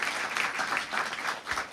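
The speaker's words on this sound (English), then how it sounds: "Let's give him a big round of applause." At a scholarship award ceremony, an audience gives a brief round of applause, an even, moderately loud wash of clapping from a seated crowd lasting under two seconds.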